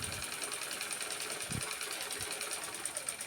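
A sewing machine stitching leftover fabric into a scrunchie whirs faintly and steadily, with a few soft thumps from handling the cloth.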